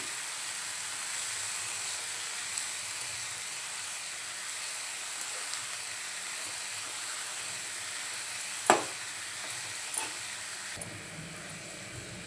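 Red amaranth greens fry in a pan and are stirred, giving a steady soft sizzle with an occasional light clink of the utensil. The sound stays fairly quiet throughout and no one speaks.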